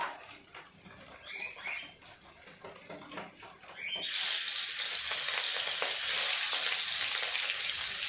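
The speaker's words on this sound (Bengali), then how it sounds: "এবার আমি মাছগুলো এক এক করে ভেজে নেব।" Quiet kitchen clatter gives way to a loud, continuous sizzle as rohu fish pieces hit hot oil and keep frying steadily.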